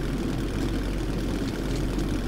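A vehicle engine idles steadily in the Metro 2033 video game, a continuous low droning rumble with a rough, throbbing texture that stays even and close throughout, with no other sounds over it.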